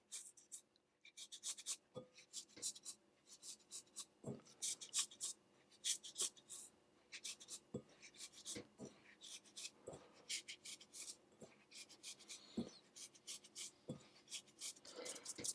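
Sugar rubbed by hand into lemon zest for lemon and poppy seed muffins, a soft close gritty rasping and scratching in repeated irregular strokes, faint and steady with occasional light knocks.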